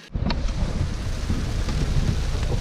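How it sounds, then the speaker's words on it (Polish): Rain mixed with small hail falls outdoors along a mountain race route, a steady dense hiss and patter with a few sharper ticks, fairly loud and continuous. "Deszcz z małym gradem pojawił się."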